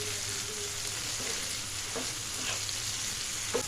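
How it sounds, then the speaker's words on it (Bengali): Fried okra being stirred with spices in a pan for masala bhindi, a steady close sizzle with soft scraping strokes of the spatula at intervals, no talk. "তারপর ভেন্ডিগুলো ভালো করে নেড়ে চেড়ে নেব, যাতে ভেন্ডির গায়ে মশলাগুলো লেগে যায়।"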